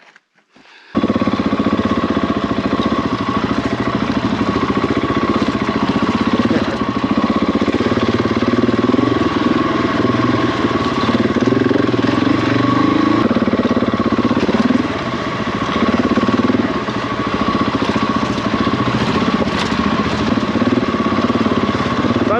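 A big heavy motorcycle on a trail idles close by, a steady, loud low-pitched chug that holds after a brief quiet start.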